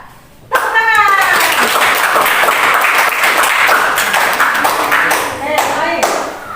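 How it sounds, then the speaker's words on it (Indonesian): A classroom of schoolchildren claps in a quick patterned rhythm, loud and close, with young voices chanting and calling along through most of the stretch. "Tepuk tangan."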